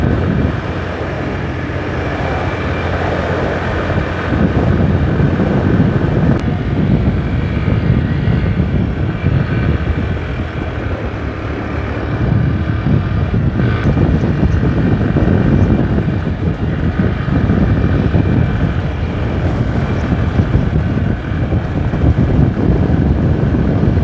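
A group of motorcycles from a motorcycle club gathering rides off toward the BR-230 highway, producing a continuous loud, rumbling engine roar with wind buffeting across the whole stretch, no speech.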